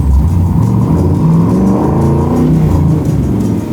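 A supercharged 750 hp Chevy Blazer on a full custom chassis revs hard nearby, its loud, steady engine roar rising and falling in pitch without a break.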